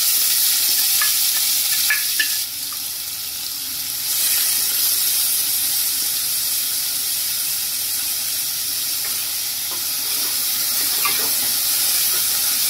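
Onion sautéing with two spoons of cumin in a pan for corn mix veg gravy, a steady broadband sizzle with spoon stirring scrapes throughout, close and even, with a brief dip in the middle and no talk.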